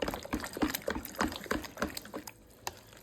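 A Danish whisk beating cornbread dressing in a bowl, giving wet, squelching, rhythmic strokes at a quick pace, close by and moderately loud.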